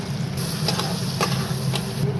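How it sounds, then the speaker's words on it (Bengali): Cumin seeds and a bay leaf sizzle in hot oil in a pan, a steady close crackling fry with a few sharper pops, no talk. "দিয়ে দিলাম জিরে ফোড়ন, দিয়ে দিলাম তেজপাতা, চলে গেল এটাকে একটুখানি ভালো করে ভাজা ভাজা করবো"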